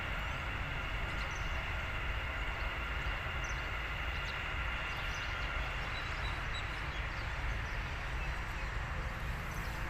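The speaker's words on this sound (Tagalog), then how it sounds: "Tayo, train yun." A train passes in Al Rashidiya Park, Dubai, a steady rumbling roar of rail cars that fills the whole stretch with an even, continuous wash of noise.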